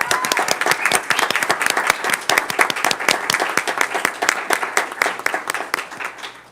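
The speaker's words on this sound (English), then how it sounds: "give them all a round of applause" A room of parents and officials at a school board meeting claps for science fair students, a dense, steady round of many hands, loud and close, tapering slightly at the end.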